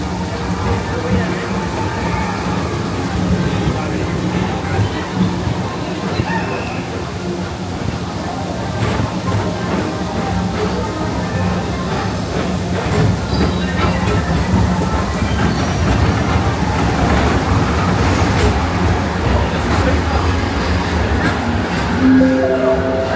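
Disney World Peoplemover ride vehicle gliding along its track in the rain, a steady continuous rumble and rattle with rain noise throughout, a recorded announcement voice playing over it.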